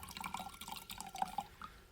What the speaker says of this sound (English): If I squish this in to my jar